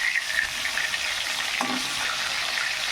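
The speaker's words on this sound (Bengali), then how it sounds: "এই সিলভার কাপ মাছটা এই যে ভেজে নিচ্ছি।" Silver carp pieces fry in a wok of hot oil, giving a steady close crackling sizzle with faint clinks and bubbling throughout, no talking over it.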